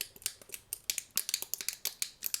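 Fablades Acedc Gamer fidget slider clicking and popping in quick irregular bursts, sharp snaps close up like bubble wrap being popped, with no voices.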